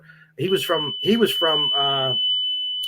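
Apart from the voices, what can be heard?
fire alarm going off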